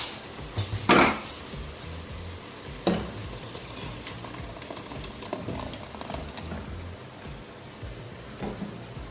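Onions fry for Ghana jollof as tomatoes go into the pan. There is a steady soft sizzle with a couple of louder splashy hisses near the start, and no talking.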